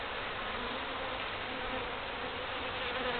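Feral honeybees swarm in the air during a hive cut-out, making a dense, steady buzzing hum of many wings close by, continuous and without speech.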